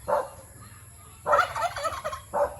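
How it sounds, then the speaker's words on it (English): A big turkey gobbles three times in rural Philippines, a short burst, a longer rattling call, then another short one, moderately close over a steady background hum. "Wow, that's a big old turkey."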